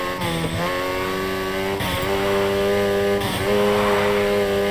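A car drifting in Need for Speed Heat, its engine holding a high steady whine while the tires squeal continuously through a long slide, loud and close, with pitch shifts as the throttle changes.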